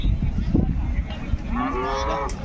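A Holstein Friesian or Jersey-cross dairy cow moos loudly and close by at the Punganur cattle market, a long drawn-out low call rising in pitch, with some background farm noise.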